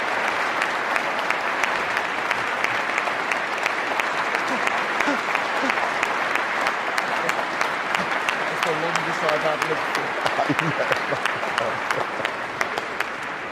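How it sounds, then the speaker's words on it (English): Sustained applause from the audience at the end of a debate on democracy in Durham Cathedral continues steadily for over thirteen seconds, with voices faintly audible beneath the clapping. "You should stand up and take the applause."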